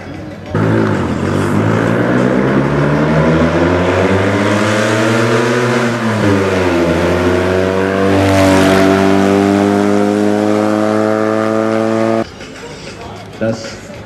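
A 1975 Porsche 911 Carrera race car at a historic hill-climb event drives past with a loud engine note that rises and falls as it revs through gears, while a commentator talks over it.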